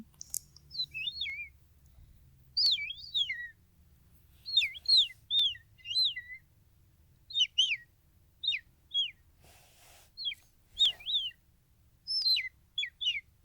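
A person imitates birdsong with their mouth, giving a series of short, bright chirps and twittering whistles in separate bursts with small pauses between them, close and clear over a quiet background.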